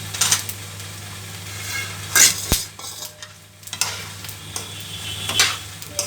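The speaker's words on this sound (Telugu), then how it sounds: "ధనియాలు, జీలకర్ర, వెల్లుల్లిపాయలు, ఎండుమిర్చి వేసుకుని ఈ కలర్ వేపుకోవాలి" Coriander seeds, cumin, garlic cloves and dried red chillies dry-roast in a pan, a steady low crackle and rustle with scraping stirs and a sharp metallic clink partway through, close and alone without talk.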